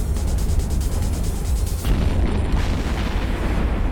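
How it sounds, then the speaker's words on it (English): A deep, booming explosion in a space combat video game rolls out with a heavy low rumble and crackling debris, loud and close, fading into a lingering roar. "that was a fancy explosion"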